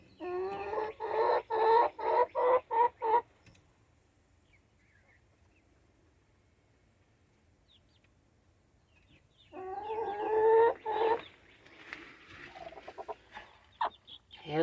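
Backyard chickens pecking at cold cantaloupe give close bursts of rapid clucking, then a quiet stretch, then more clucks and soft pecking noises toward the end.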